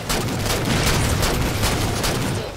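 Dense sustained burst of rapid gunfire and explosions from a Halo 4 Regicide multiplayer match, loud and continuous, with overlapping shots and booms and no talk.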